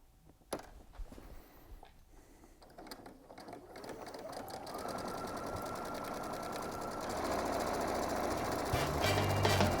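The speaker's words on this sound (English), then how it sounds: "Now we're going to go back to the machine. We're going to sew down that line as well." A sewing machine stitching a straight line on curtain fabric, starting with a few clicks and taps, then running in a steady whirring hum that grows louder and continuous toward the end, close by with no talk.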